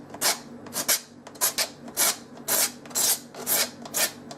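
Back of a blade scraped along a sawn wood edge in a rasping stroke rhythm, about a dozen short, close, moderately loud scrapes repeating steadily with no talk.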